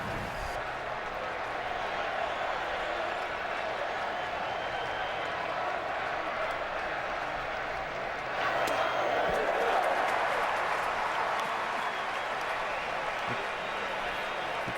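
Large baseball stadium crowd at an ALCS game, Yankees against the Rangers in 2010, a steady distant roar and murmur that swells louder near the end, under a commentator's talk.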